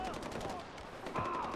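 Gunfire in the video game Far Cry 4, heard as a rapid series of sharp shots in quick succession, fairly faint against a busy game background, with someone speaking over it.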